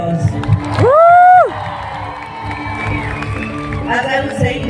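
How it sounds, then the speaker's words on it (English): An audience cheers and whoops at a stage event, with a loud sustained shout rising over the crowd noise, then a softer voice and continued murmuring cheers beneath. "Huge round of applause"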